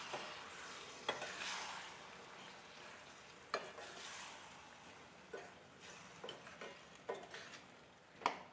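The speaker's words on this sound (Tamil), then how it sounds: "இப்போது நம்ம ஊற வச்சுருக்கிற அந்த ஊறுகாயை எடுத்து அதோடு போட்டு நல்லா வதக்கி விடுவோம்." Lemon pickle being sautéed and stirred in hot oil, giving a soft steady sizzle with scattered sharp clicks and scrapes of a spoon against the pan, close and without talk.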